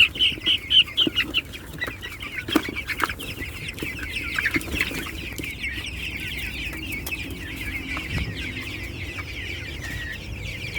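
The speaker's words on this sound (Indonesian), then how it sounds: "ayam pejantan berumur 45 hari" A flock of 45-day-old male broiler chickens on a farm clucks and chatters continuously, with louder clucks near the start and a steady murmur of birds after.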